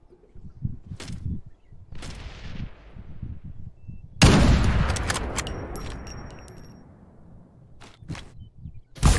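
Sniper gunfire in the video game Farlight 84 rings out as one loud, sharp shot with a long rolling echo, among a few fainter distant shots and quiet player chatter.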